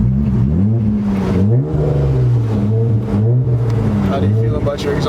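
A straight-piped BMW E36 325i revs up loudly, its rough engine tone rising and dropping in quick pulls as the car accelerates, heard close and steady throughout.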